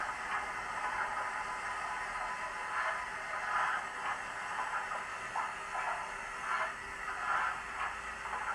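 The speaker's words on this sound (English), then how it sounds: "Function 6 provides the coal shoveling sound." Coal shoveling from a Bachmann Fowler 7F model steam locomotive sound decoder: a rhythmic series of scraping shovel strokes, about one a second, over a steady background hiss.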